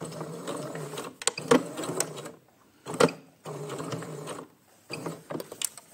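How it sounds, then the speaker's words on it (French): A sewing machine stitches around the edge of a fabric bookmark in short bursts, each run of rapid needle clatter stopping briefly before starting again, close and moderately loud with no talking. "Et vous allez coudre tout autour."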